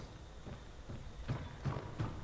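Enemy player's footsteps in the video game Hunt: Showdown, a steady series of soft, thudding steps that grow slightly louder toward the end, with only faint background ambience.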